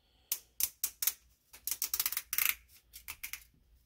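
Crisp, repeated snips of scissors cutting, first in a few evenly spaced cuts, then quicker bursts, close up with no talking.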